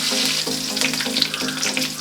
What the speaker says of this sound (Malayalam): ഈ പെരിഞ്ജീരകവും കടുകും നല്ലപോലെ പൊട്ടിക്കഴിയുമ്പോൾ അതിലോട്ട് നമുക്ക് ആവശ്യമുള്ള കറിവേപ്പില ഇടുക.